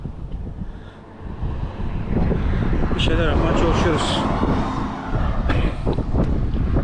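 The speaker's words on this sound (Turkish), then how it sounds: "Aşırı rüzgar var bugün." Heavy wind buffets the microphone in a constant low roar while someone talks over it during a bicycle ride through Şarköy.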